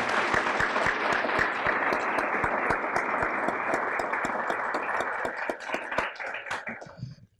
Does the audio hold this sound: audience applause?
yes